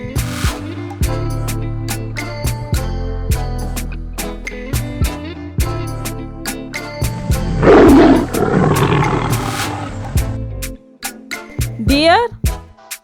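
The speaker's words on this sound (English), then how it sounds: "tiger" A tiger at a zoo lets out a rough, rumbling roar that swells for a couple of seconds near the middle, loud and close over steady rhythmic background music.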